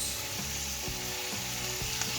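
Celery sizzles steadily in a hot pan with onions, with a few soft knocks of stirring breaking through the constant frying hiss.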